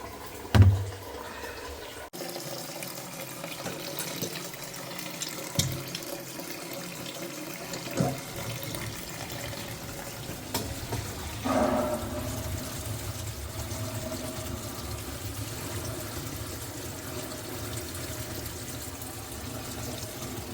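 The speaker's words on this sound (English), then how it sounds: "we're going to dump this, make sure nothing's leaking" Water dumped into a cracked sink basin and draining slowly, a sudden pour followed by a long continuous rush and gurgle close by, with a few knocks and clunks.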